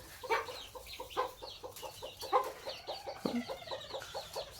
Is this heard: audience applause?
no